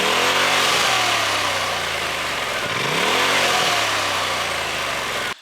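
A Polaris Pro XP RZR engine with an RPM blow-off valve runs loud and close, swelling through repeated revs with rising and falling pitch. A sharp cut-off at the very end has no talk over it.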